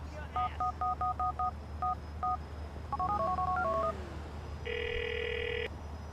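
A mobile phone in the game GTA IV dials a string of short beeping keypad tones, then gives a longer, steady ringback tone. It sounds close and fairly quiet, with faint talk underneath.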